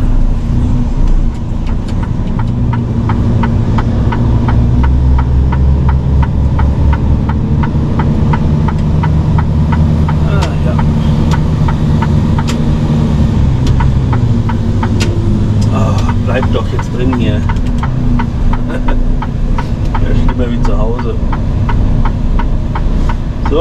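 A loaded vehicle driving along a road toward Mainz-Finthen: a loud, steady low engine drone with rumbling road noise throughout, and someone talking over it.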